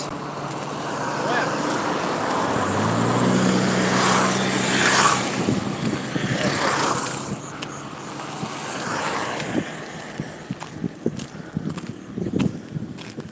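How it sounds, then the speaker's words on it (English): Busy road with passing lorries: a loud, sustained roar of heavy vehicles swells and fades as traffic passes nearby, with a voice talking over it in places. "The lorries around the place, a busy road."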